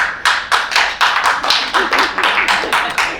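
An audience at an ACA NSW President's introductory speech claps in a steady, even rhythm of sharp, close hand claps with no voices over them.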